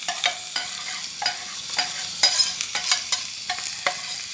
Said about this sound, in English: you can hear the sound, right? The sizzling sound, the chiss sound.